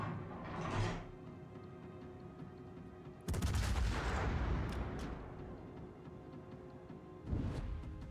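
Ship guns from a Hindenburg Tier 10 German cruiser firing in World of Warships: a heavy boom with a long rolling decay, bracketed by softer distant shots before and after.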